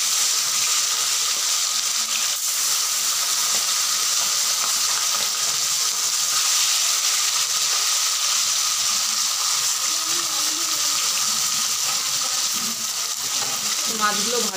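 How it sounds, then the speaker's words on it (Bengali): Pieces of bata fish sizzle in hot oil in a pan for a Bengali fish curry with potatoes, a steady dense frying hiss running throughout with faint clinks, close and fairly loud. "মাছগুলো ভাজা হতে থাক,"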